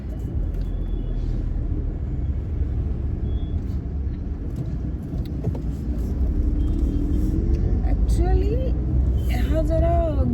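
A made-in-India car cruises slowly along a highway through village stretches, giving a steady, loud engine and road rumble throughout with someone talking over it.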